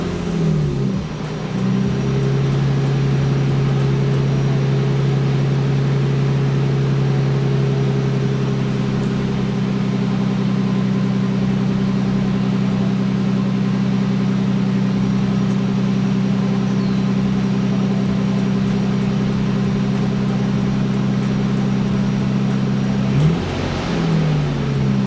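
A Nissan R32 Skyline's engine idles at a steady, loud drone for about twenty seconds, then its pitch shifts near the end with a short blip.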